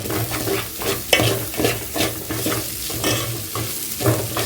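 Turmeric rice fries in a sufuria while a spoon stirs it, giving steady sizzling with rhythmic scraping strokes repeating close by.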